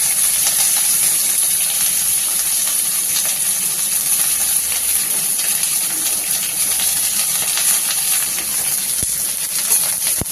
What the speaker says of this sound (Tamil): கோஸை நல்லா வதக்கிக்கலாம்.